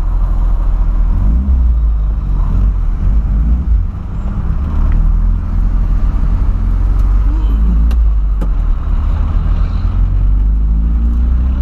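Loud Volkswagen Voyage engine rumble heard from inside the old car while driving, steady with slight swells, a couple of faint clicks and muffled voices underneath.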